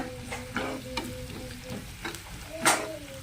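Green chillies fry in a pan while being stirred, a close crackling sizzle with rhythmic spatula scrapes every half second or so and one sharper clatter near the end.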